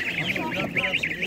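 Geese and ducks at a poultry stall in an animal market give repeated nasal honks and quacks close by, with people talking over the calls.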